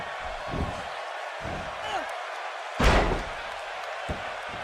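A wrestler's body crashes onto the ring mat in a WWE 2K18 match, a single loud thudding slam midway through, with commentary and crowd noise around it.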